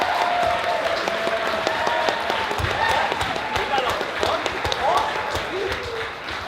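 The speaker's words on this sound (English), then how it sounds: "You can clap louder for them for that." Audience applause at a convention opening ceremony, a dense steady patter of clapping with a speaking voice heard over it.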